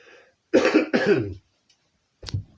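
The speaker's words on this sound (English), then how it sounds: "So if I'm coughing through it" Two harsh, close coughs in quick succession, then a pause and a shorter cough or throat clear.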